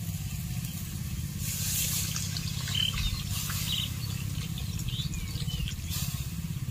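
Water pours into a pot of braised chicken, peas and potatoes with a continuous low splashing rush and soft trickles and drips, steady and close throughout, with no talking.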